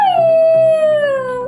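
A dog gives one long, loud, close howl that holds a steady pitch and then slides gently downward, filling the whole moment without pause or other sounds.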